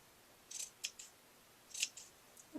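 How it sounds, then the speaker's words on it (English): Scissors snip into felt edging to shape a snowman's scarf, several crisp close cuts in two small clusters with quiet pauses between. "scissors and just cut"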